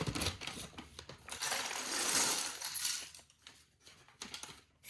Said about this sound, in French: Toujours aussi brutal dans la manière d'ouvrir un sac.